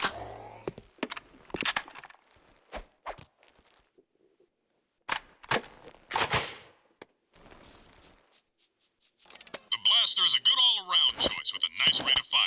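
Blaster mod gunfire in Jak II: a quick run of sharp, ringing zaps fires near the end after scattered clicks and soft talk.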